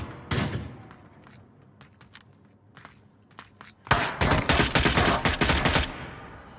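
Gunfire in the VR shooter game Onward, a few scattered shots early, then a dense loud fusillade of rapid bursts for the last few seconds, with footsteps between.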